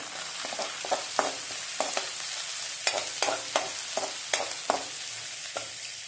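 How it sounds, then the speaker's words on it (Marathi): Onion and curry leaves frying in a pan, a soft steady sizzle broken by a dozen or so sharp spatula knocks and scrapes at irregular intervals, close and without speech. "हा कढीपत्ता त्याच्यानंतर हा कांदा कांदा चांगला भाजून घ्यायचा"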